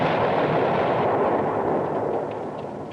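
A car explosion from the 1972 film Slaughter, heard as a dense, loud roaring blast that fills the whole clip and slowly fades over three seconds, with no voices.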